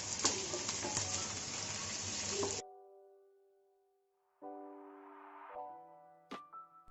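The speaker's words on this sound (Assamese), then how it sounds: "এতিয়া পিঁয়াজখিনি ফ্ৰাই কৰি ল'ম" Chopped onions fry in a pan for a dhaba-style chicken bharta, giving a dense, steady sizzle for about two and a half seconds. The sizzle cuts off abruptly and is followed by quiet, sustained tones and a few short clicks.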